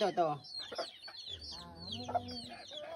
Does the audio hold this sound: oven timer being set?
no